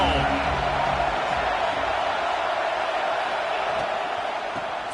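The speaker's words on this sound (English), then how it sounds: "This crowd ready to make its presence known." A large stadium crowd in the NCAA 26 college football video game roars as a broad, steady wash of cheering, with a low rumble at the start and a slight fade toward the end.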